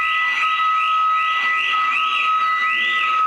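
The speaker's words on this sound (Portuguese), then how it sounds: "A sirene contra incêndio é disparada neste museu em Belo Horizonte." A fire alarm siren sounds during a test in a museum in Belo Horizonte, giving a loud, steady electronic tone that rises and falls in repeated sweeps about every half second, alone with no talk.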